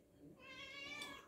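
A cat gives a single drawn-out meow that rises and falls, fairly quiet and alone.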